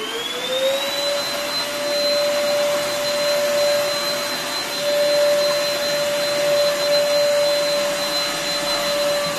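A vacuum cleaner runs steadily over a rug, sucking up lint with a loud, constant whine that rises in pitch as the motor spins up at the start, then holds without a break and with no talking.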